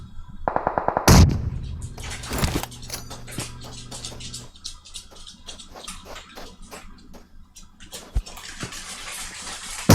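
Rapid bursts of PUBG Mobile gunfire crack out, a loud volley near the start followed by scattered sharp shots and clicks, some near and some distant.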